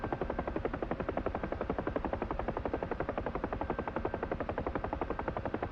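Steady, fast rhythmic thudding of a Huey helicopter's rotor blades in the DCS World flight simulator, a constant loud beat holding through the whole stretch with no voices over it.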